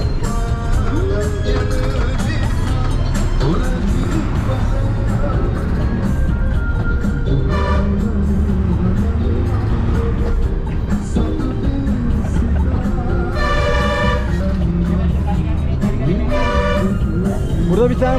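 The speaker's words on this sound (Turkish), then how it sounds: "Şu otobüsü göstereyim." Bus driving past on a Sri Lankan road with several short horn toots, plus a loud continuous rumble of engines and traffic, as people talk throughout.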